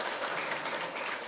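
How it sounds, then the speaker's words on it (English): Brief burst of audience applause at a tourism leadership summit in New Delhi, a dense, even wash of many hands clapping, fairly faint and distant in a large hall. "all this deserves an applause from the audience"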